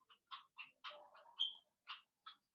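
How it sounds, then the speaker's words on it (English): Frogs call from a garden pond in Bali. Short, separate, raspy croaks come in an uneven rhythm, with one higher, drawn-out note partway through. The calls are faint and sound some distance away, with silence between them. "Do you hear the frogs singing in my pond here?"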